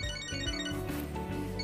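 A melodic ringtone chime from a phone in the video game Catherine Full Body, a short tonal jingle that plays clearly for under two seconds.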